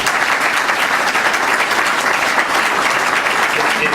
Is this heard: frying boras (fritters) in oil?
no